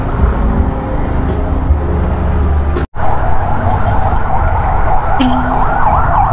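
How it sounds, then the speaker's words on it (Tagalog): An ambulance siren wails in rising and falling sweeps amid steady road traffic noise, fairly loud and nearby, in the Philippines. "May ambulansya pang sumabay."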